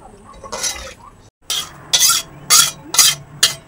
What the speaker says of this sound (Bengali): একটু নাড়িয়ে চাড়িয়ে নিচ্ছে।